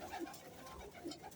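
Pigeons of an old 15 to 20 year bloodline coo softly and briefly, faint and close, under low background noise.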